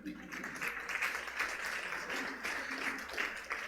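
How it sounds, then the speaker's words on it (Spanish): A church congregation applauds at a wedding service, a soft, steady patter of clapping from a crowd at moderate distance, with a few faint voices underneath. "Den un aplauso para los dos."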